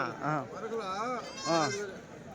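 A few goat bleats rise and fall in wavering calls close by at a weekly goat market, with short gaps between them and no talking.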